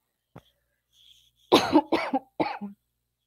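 A few sharp coughs in quick succession, close and fairly loud, after a brief throat sound and short quiet gaps.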